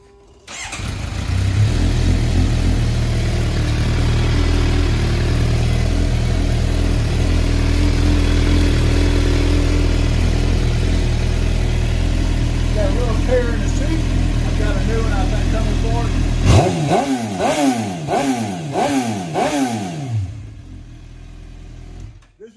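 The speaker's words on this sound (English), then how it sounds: "runs great. I'm gonna let you hear it." A 2012 Suzuki GSX-R750 motorcycle with 30K miles idles loudly and steadily up close, then is revved in several sharp rising-and-falling bursts near the end.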